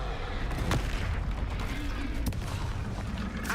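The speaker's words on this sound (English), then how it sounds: "Expelliarmus." A wizard casts the Expelliarmus disarming spell during a Hogwarts Legacy duel, with sharp whooshing bursts cutting through loud, constant roaring combat noise and rumbling booms.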